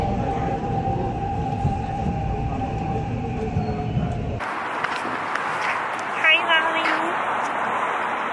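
Train ride to the airport in Seoul during evening rush hour, with loud rumbling carriage noise and wheel hum for the first half, then a quieter cabin with a brief high squeal and faint people talking.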